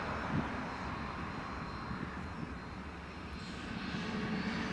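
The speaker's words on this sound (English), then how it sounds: "Next Jet2 that's coming in is from Heraklion, from Greece." A Jet2 airliner arriving from Heraklion at Leeds Bradford Airport sounds as a faint, continuous engine roar in the distance, steady throughout with no talk.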